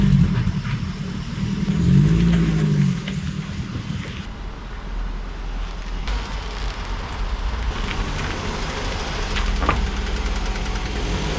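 A car engine idles with a steady low rumble while the car is turned around. The sound holds fairly loud and constant throughout, and no one speaks.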